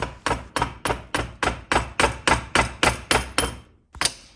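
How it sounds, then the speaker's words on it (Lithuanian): A hammer handle strikes metal about a dozen times in a steady, even rhythm, knocking a shaft out of a mower deck, pauses briefly, then lands one final blow, close and sharp. "atsargiai plaktuko kotu pabaigiau iškalti velenėlį"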